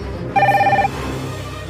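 A telephone rings with a bright electronic double trill, loud and close, once over a low background hum.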